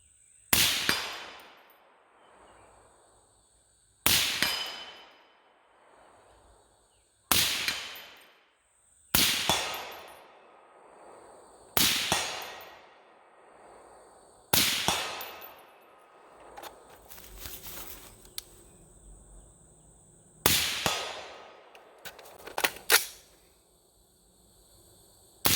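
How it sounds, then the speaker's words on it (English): Shots from a Daniel Defense DD5 V3 .308 rifle: eight loud, sharp reports spaced a few seconds apart, each followed by a long decaying echo outdoors, with small clanks and rustles in the gaps and no talking. "And just like that, we have put 100 rounds through this rifle."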